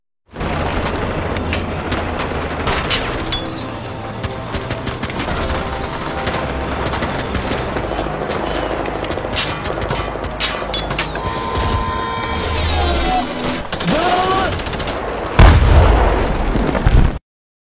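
Heavy battle gunfire in a film about soldiers thwarting a coup against Erdogan, with tanks firing on fighters: dense, loud, continuous bursts of shots and explosions, with a big blast near the end and no talk.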